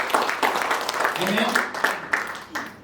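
A church congregation breaks into applause during an Indonesian-language sermon, a steady wash of clapping filling the room while a voice speaks over it.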